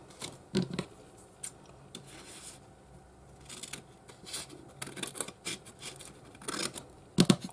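Scissors cutting through a 12x12 sheet of craft paper, close crisp snips and scraping strokes in irregular bursts, with quieter rustling between cuts and no talking.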